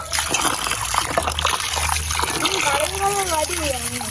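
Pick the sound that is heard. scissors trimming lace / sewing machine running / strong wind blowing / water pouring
water pouring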